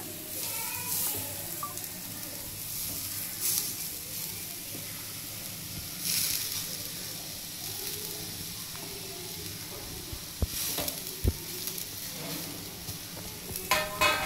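Eggplant pieces frying in a hot pan, a steady soft sizzle and hiss with occasional sharp clicks and scrapes, close and fairly quiet throughout.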